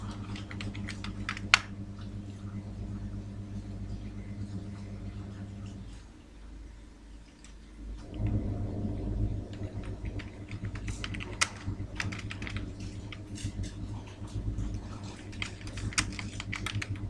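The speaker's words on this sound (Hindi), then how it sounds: "तो इसके लिए सबसे पहले हम ऊपर अपनी कंपनी का नेम टाइप कर देते हैं" A company name typed on a computer keyboard while working in an Excel spreadsheet, with quick irregular key clicks, a brief pause midway, then steady close typing over a faint hum.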